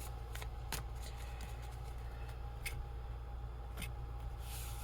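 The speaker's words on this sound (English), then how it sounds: "Speaking of gamble cards, I need to give these a shuffle." Gamble cards for a tabletop baseball card game being shuffled and cut, with soft irregular riffling and a few sharp snaps close by over a steady low hum.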